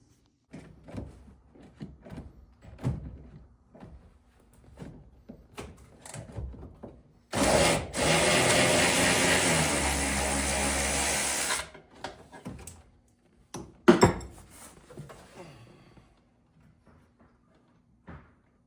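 Power tool spinning nuts off the brake master cylinder of a 1971 Dodge Charger Super Bee: scattered clicks and metallic taps, then one loud sustained whir of about four seconds, followed by more clanks and handling noises.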